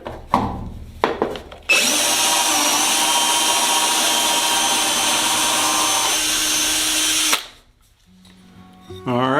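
A power drill whines loudly and steadily for about six seconds, deburring inside a metal tube, with brief clatter and handling noises before and after.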